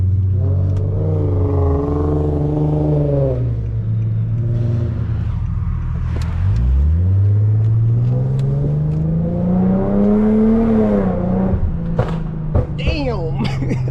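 A 400 hp Infiniti G37 engine revving while driving, a deep loud rumble whose pitch rises, drops sharply and climbs again through long pulls, heard from inside the car.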